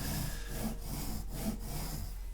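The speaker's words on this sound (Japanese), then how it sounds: "ノコギリを入れる" A hand saw draws steadily through a squared wooden block during carving, a continuous close rasping with slight rhythmic swells from the strokes, no voices.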